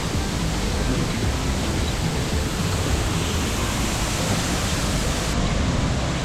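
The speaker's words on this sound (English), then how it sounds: "There's the water, and we can just see the top of the waterfalls." Roaring waterfall beside a river at the Devil's Pool area in Africa, a dense, steady broadband rush of falling water that stays loud and unbroken from start to finish, close by with no other sounds standing out.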